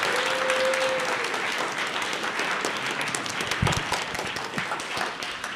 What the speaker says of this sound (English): Please give our presenters another round of applause.